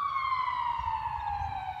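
An ambulance siren wails with a single long, slowly falling tone, clear and moderately distant, over low traffic rumble.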